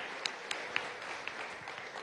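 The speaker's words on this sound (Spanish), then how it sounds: "un aplauso para nuestro secretario del partido" Applause at a political party congress plenary session, a steady wash of clapping from a large crowd with a few sharper individual claps popping out at regular intervals.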